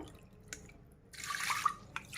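Water poured from a glass into a cooking pot makes one short, close splash that lasts about half a second in an otherwise quiet kitchen.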